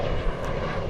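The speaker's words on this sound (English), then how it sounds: "that's the plane rolling there" An American Eagle Embraer 175 airliner taxis at DFW Airport, a steady broadband jet-engine roar, moderately loud and continuous with no voices.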